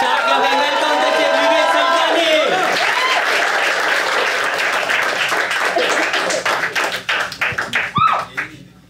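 Audience at a Hindi stand-up comedy show applauds loudly and steadily, a dense wash of clapping that thins into scattered, separate claps near the end.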